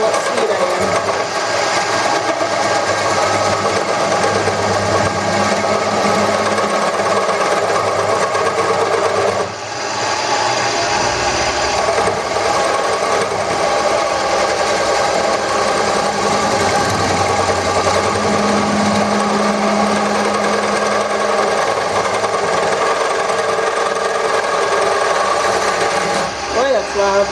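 A wood lathe turns an ambrosia wood tool handle while a tool cuts it, giving a loud, continuous, rough grinding whir that swells and dips slightly as the cut changes. The dial is broken, so the speed is unknown.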